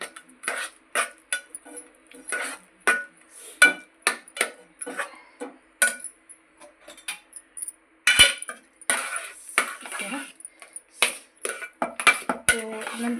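A utensil scrapes and knocks against a pot as semolina with ghee and salt is stirred, giving irregular clinks and taps in bursts at close range with quiet gaps between them.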